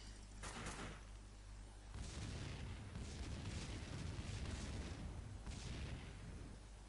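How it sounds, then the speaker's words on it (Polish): Dense rumbling blasts and crackling booms from explosions in Max Payne 2 roll continuously, growing heavier after a couple of seconds, with a synthetic, game-like quality and no speech. "Ach, te wybuchy."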